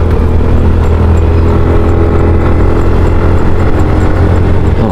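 A motorcycle engine pulls steadily up an uphill curve on a ride in Catanduanes, a loud, close, continuous mid-pitched drone with wind rush and no talking.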